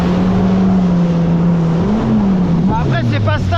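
A Yamaha FX SVHO 300 hp jet ski, Stage 1+ tuned, drones at speed with a steady high engine whine that shifts pitch near the end, loud and close, with a voice briefly over it.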